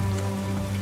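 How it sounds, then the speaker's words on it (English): Steady rain pouring down in Goddess of Victory: Nikke, a dense, even wash of drops falling on surfaces, continuous and fairly loud with no voices. "Rain starts pouring down from the sky."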